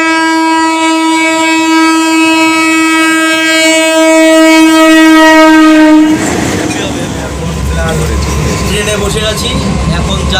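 At Akaipur railway station, a train sounds a loud, sustained horn for about six seconds, then gives way to a close, heavy rumble of the train at the platform.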